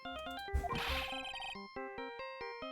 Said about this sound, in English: What is with that stupid sounding ringtone?